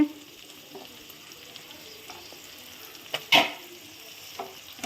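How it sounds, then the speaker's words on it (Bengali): Tomato, onion and green chili fry in a home kitchen pan, with a soft, low sizzle running under a few scraping stirs and one brief, sharper clatter of a utensil. "টমেটো, পেঁয়াজ, কাঁচা লঙ্কা সব দিয়ে দিলাম, দিয়ে ভালো করে ভাজবো"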